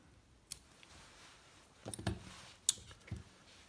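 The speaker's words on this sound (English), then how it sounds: "And trim off the butts." Small scissors trimming herl butts at a fly-tying vise, a few quiet, crisp snips spaced apart with faint handling noise between them.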